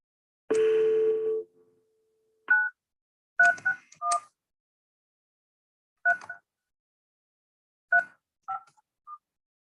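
Telephone keypad being dialed for a call during a municipal court arraignment session: a burst of dial tone, then a series of short separate DTMF beeps in irregular clusters, clear and close.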